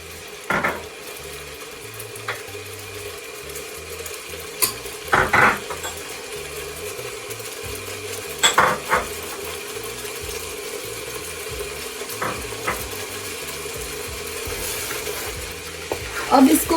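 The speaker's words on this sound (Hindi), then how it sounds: "अब इसको भूनना है, इतना भूनना है इस मसाले को कि इसका एक मसाला सा बन जाए" Spice masala fries in oil for a chicken kofta dish, a steady sizzle punctuated by repeated scraping stirs and the clink of a spoon against the pan, close and fairly loud.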